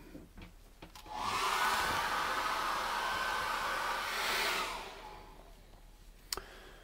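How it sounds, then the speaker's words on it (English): A hair dryer blows close by onto an acrylic painting, switching on after a second, roaring with a loud steady hiss for about four seconds, then cutting off to quiet. "I'm going to dry that again with a hairdryer."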